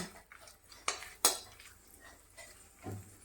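Halved cashews tipped into a pan to roast for a lotus-seed halwa: scattered light clinks and scrapes of a utensil against metal, with a couple of sharp knocks and a faint sizzle, all quiet and without voices.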